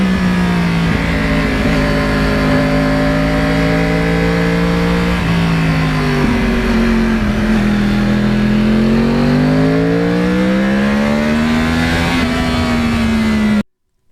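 A 2009 Yamaha R1 crossplane sportbike accelerates hard, its loud, close engine note climbing and dipping through gears in a continuous rough growl with rising pitch sweeps, cutting off abruptly at the end.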